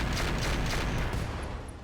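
Mech weapons firing all at once in the video game RogueTech, a dense, loud barrage of rapid mechanical shots and booms blending into continuous rumbling noise that eases off slightly toward the end.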